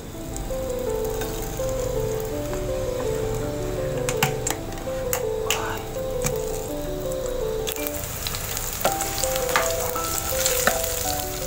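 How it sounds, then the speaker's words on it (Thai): Garlic fries in oil in a pan with a steady close sizzle, with scattered sharp ticks and scrapes from stirring over about eleven seconds. "ใส่กระเทียมแล้วก็น้ำมัน"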